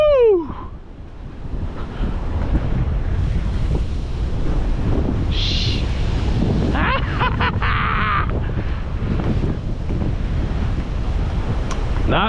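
Ocean waves surge and crash against rocks along a rocky fishing shoreline, a loud continuous wash with swelling rushes while wind buffets the microphone throughout.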